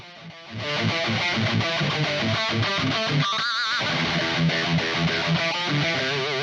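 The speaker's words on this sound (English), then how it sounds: "When you add a bit of gain, you get a raw, punchy rock tone that'll cut through." Electric guitar with added gain played through a budget amp modeler, giving a gritty, punchy rock tone with chords and sustained notes ringing steadily and loudly throughout.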